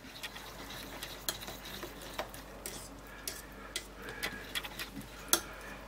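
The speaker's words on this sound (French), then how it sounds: "Je brasse encore un petit peu, pas que ça brûle au fond." A spoon scrapes and clicks around a pot of cooked apples just taken off the heat, with light irregular taps and swishes at a quiet level.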